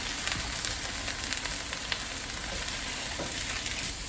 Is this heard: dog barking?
no